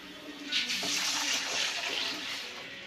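Water pours in a steady, rushing stream into a cooking pot for about three seconds while making semiya upma, close and fairly loud, with no talking.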